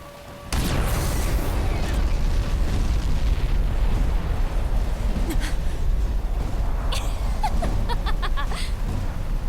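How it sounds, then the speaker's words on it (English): A loud explosion in the video game Xenoblade Chronicles X bursts in abruptly and rumbles on as a sustained, heavy roar, with scattered crackles and debris-like bursts near the end. "What was that explosion?"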